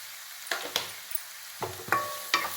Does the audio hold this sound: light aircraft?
no